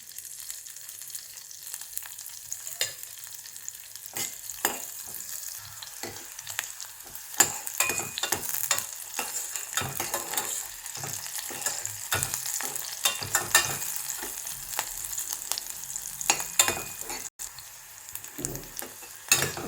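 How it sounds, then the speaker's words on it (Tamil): Green chilies sizzling and crackling in a little oil in a pan, with steady frying hiss, irregular sharp pops and occasional stirring scrapes throughout, no voices. "முதல்ல பச்சை மிளகாயை ஃப்ரை பண்ணி எடுக்கலாம்."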